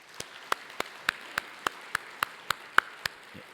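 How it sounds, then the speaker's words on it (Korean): A church congregation at a year-end worship service claps for a newborn baby: evenly spaced single sharp claps, about three per second, soft and distant, with no talking. "앞으로 잠깐 나와주시면 축복하는 마음으로 박수하겠습니다"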